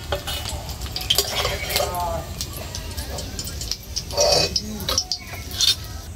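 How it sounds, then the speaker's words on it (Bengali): Chicken egg omelettes coated in cornflour fry in oil with crackling sizzle, mixed with clinks and scrapes of a utensil against the pan and a voice talking over much of it. "এবার তেলের মধ্যে দেবো। চিকেন অমলেটগুলো একইভাবে সব ভেজে নেব।"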